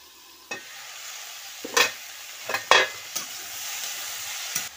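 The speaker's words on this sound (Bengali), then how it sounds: "কম আঁচে আস্তে আস্তে করে সবজিটা কষে নিতে হবে।" Ridge gourd and potatoes with salt and turmeric sauté over low heat in a pan, with a soft continuous sizzle and several distinct scrapes of a spoon stirring.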